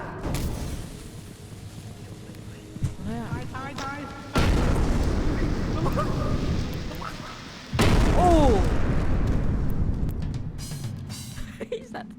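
Two sudden loud booming blasts, roughly three seconds apart, burst from the horror co-op video game Content Warning, each followed by rumbling decay, with scattered speech and pitched game sounds in between.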